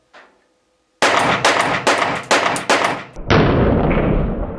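Glock 17 blank pistol fired in the dark with visible muzzle flames: after a faint click, five sharp loud reports in quick succession, then a final blast trailing into a sustained hiss.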